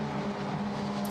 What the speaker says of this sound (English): There's that Corvette, great sound it makes as it accelerates away out of Chapel and onto the Hanger Straight